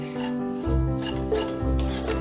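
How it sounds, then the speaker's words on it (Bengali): Vermicelli fried in a pan is stirred continuously, giving a loud, close scraping and rubbing sound in repeated strokes, with two heavier scrapes standing out, no talking. "এটাকে আমাকে কন্টিনিউয়াসলি নাড়তে থাকতে হবে যতক্ষণ না পুরোপুরি লাল হয়ে যাবে।"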